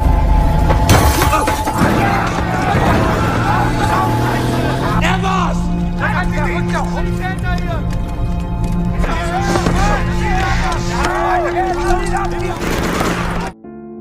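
Glass shatters as a thrown stone strikes a Nazi soldiers' car in a wartime film scene, a sharp crash near the start followed by continuous dramatic music and voices talking over it until an abrupt cut at the end.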